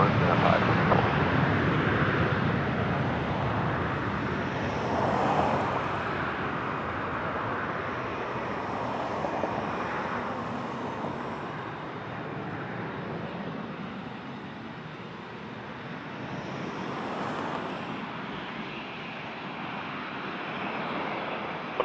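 An airliner takes off from Toronto Pearson's runway 23, its engines a broad sustained roar that swells and fades over twenty seconds while radio chatter runs beneath.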